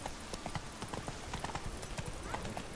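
Roach the horse gallops in The Witcher 3, giving a steady stream of quick clip-clop hoofbeats at moderate volume with a faint whinny mixed in.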